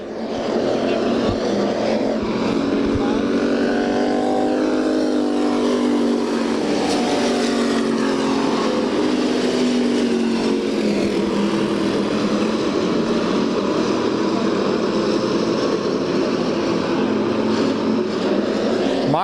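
Race cars roar around the short oval at Bakersfield in a Budweiser Racing Series event, a loud continuous engine drone with rising and falling tones from the field, under a blanket of crowd and track noise.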